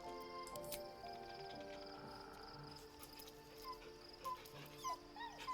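A dog in the Baldur's Gate video game being petted, giving soft whimpers and small yips over quiet game music, faint and close, with brief louder yelps near the end.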